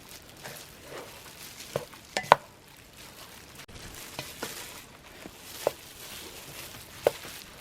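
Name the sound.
stirring beef croquette mixture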